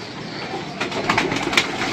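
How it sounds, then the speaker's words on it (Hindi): High flyer pigeons coo softly on a rooftop loft, a few low murmuring calls over steady outdoor background noise. "डंडा परेड करेंगे आज इन कबूतरों का और निकालेंगे"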